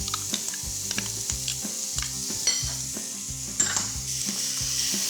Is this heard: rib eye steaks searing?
yes